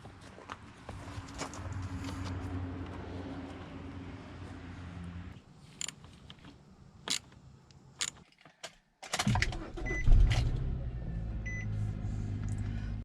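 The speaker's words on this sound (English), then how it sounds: "we'll go ahead and give it a start and see if we have any lights on" A Nissan Rogue engine cranking and firing up after a new alternator was installed, with quieter clicks and knocks first and then a sudden loud start that settles into a steady, close idle rumble. No one speaks.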